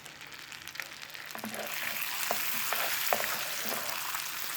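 Butter melting into caramel in a pan, sizzling and crackling steadily with scattered sharp pops and occasional stirring, close and fairly quiet, with no talking.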